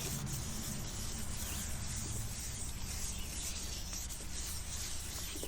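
A yellowed headlight lens on a 2006 Subaru WRX is sanded and polished by hand. The result is a steady, close, dry rubbing and scraping that continues evenly throughout, with no voices.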